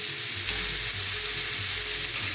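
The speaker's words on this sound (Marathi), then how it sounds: "आता छान ह्याला शिजू द्यायचं, छान भाजून घ्यायचं तेलामध्ये," Raw green mango pieces fry in hot oil, giving a dense, continuous sizzle and crackle at close range, steady throughout with no voices.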